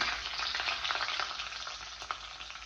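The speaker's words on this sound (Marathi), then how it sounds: "तेल गरम झालं की त्याच्यामध्ये घालायची आहे मोहरी जिरं बारीक चिरलेली हिरवी मिरची" Mustard seeds, cumin and finely chopped green chili sizzle in hot oil, a steady close crackling hiss with small pops and no talking.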